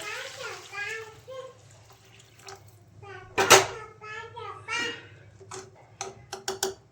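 Hot water is poured into a pan of rice with peas during cooking, making a splashy, gurgling pour heard under a person talking close by.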